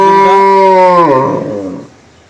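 A Japanese dairy cow lets out one long, loud moo close by, its tone sliding downward before fading away.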